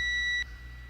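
Car alarm motion sensor triggered by a waving hand, sounding a steady high electronic beep tone that stops abruptly partway through, leaving a low hum.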